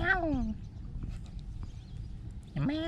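A cat gives two clear, rising meows, one at the start and one near the end, over a low background rumble.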